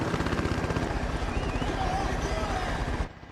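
A helicopter flies low near city buildings in a Marvel film scene, its rotor thumping loud and steady with a rhythmic chop, mixed with a roaring engine before the sound drops off at the end.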